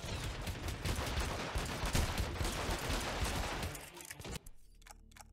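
Rapid, dense gunfire from the video game Hitman: Absolution, a loud sustained volley of overlapping shots that cuts off abruptly near the end, leaving scattered quieter clicks.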